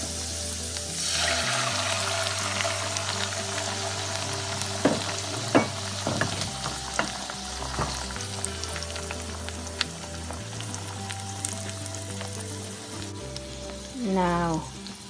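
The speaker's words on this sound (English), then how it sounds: "Now omelette is cooking, sizzling." An egg omelette with onion fries in a hot oiled pan, a steady loud sizzle running throughout with occasional stirring scrapes and clicks, no voices present.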